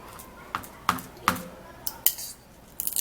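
A knife cuts through something firm with a few sharp, separate cracks and clicks. There is a steady rhythm of about five impacts, close and moderately loud, with faint clatter between them.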